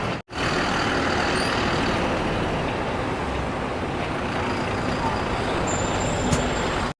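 A Volvo 9600 sleeper bus idles loudly and steadily beside a hotel, with broadband engine rumble filling the scene and a faint hiss near the end.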